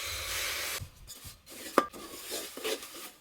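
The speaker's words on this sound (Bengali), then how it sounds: "আস্তে আস্তে নাড়তে থাকবো আর গুড়টা গলে যাবে" A spoon scraping and stirring jaggery with a little water in a heated pot, slow rubbing strokes broken by a sharp metallic clink, close and fairly quiet.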